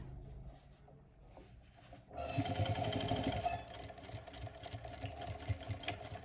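A sewing machine stitches a scrap-fabric potholder, its motor starting after a quiet lead-in and then running in a steady close, loud burst of rapid needle strokes with slight pauses.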